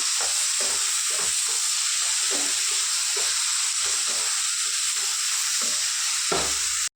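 Two chopped tomatoes cooking down in hot oil in a pan, a steady loud sizzle with bright hiss throughout and regular soft scraping knocks as they are stirred.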